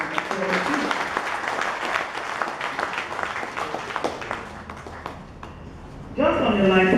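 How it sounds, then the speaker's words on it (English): Audience applause at a government ministry press briefing in Lagos, a patter of clapping under a speaking voice, dying down midway before a voice speaks louder near the end. "Can we please give him a round of applause?"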